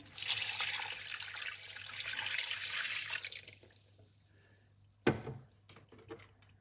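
Milk poured into a flour mixture for sweet thodhal, a steady close liquid stream for about three seconds that stops, followed by a sharp knock and a few faint drips and clinks.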